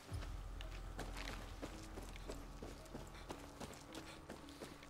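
Horse hooves in Far Cry 6 clip-clopping in a steady walking rhythm, fairly quiet, with faint game ambience beneath.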